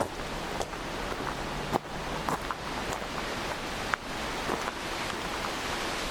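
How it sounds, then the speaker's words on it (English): Steady wind roars and gusts outdoors in a park, with rustling through trees and a few faint clicks and knocks, no talking. "Very windy today as well, you can probably hear that"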